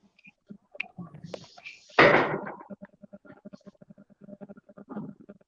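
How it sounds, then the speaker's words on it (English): A door slams shut once with a single loud, close bang midway, set among quieter background rustling and faint speech. "Don't slam the damn door."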